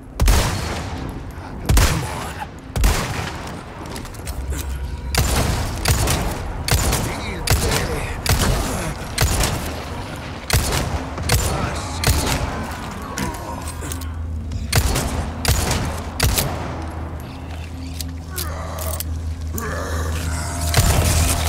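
Heavy gunfire in Resident Evil 4 Remake, with a mix of sharp, loud single shots and rapid volleys spread across a chaotic fight, alongside booms, shattering and mechanical clatter over a low rumbling background.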